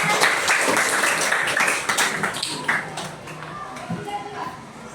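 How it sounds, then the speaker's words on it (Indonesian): A fifth-grade primary school class gives applause, an irregular burst of claps that thins out over a few seconds, with children's chatter and a speaking voice around it. "Berikan tepuk tangan"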